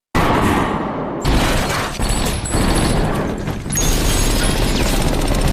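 Gunfire bursts in a film raid scene as FBI agents storm a building after stun grenades, a dense, loud barrage of shots and booms continuing throughout with brief dips.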